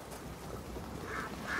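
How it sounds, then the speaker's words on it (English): Ducks quack softly a couple of times near the end, faint against a low ambient wash in A Plague Tale: Innocence. "Ducks. Oh, like the ones we eat?"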